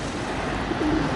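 A pigeon gives a soft, brief coo near the end, low and fairly close over a steady outdoor background hiss, with no one speaking.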